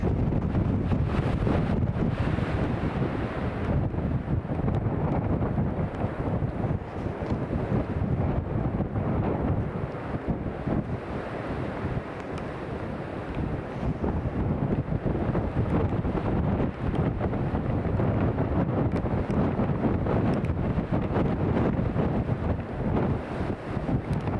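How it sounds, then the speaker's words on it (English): Strong gusting crosswind buffets the microphone at Newcastle International Airport, a loud, continuous rumbling roar with surging gusts and flutter throughout, no voices heard. "Wind is currently gusting 35 knots, everybody."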